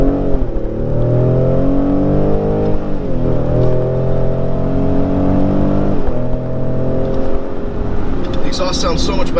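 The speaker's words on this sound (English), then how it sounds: "Exhaust sounds so much better." A 2019 Ford F-150 Raptor's twin-turbo V6 exhaust revs loud and close, pitch climbing and dropping through gear changes as a voice talks over it.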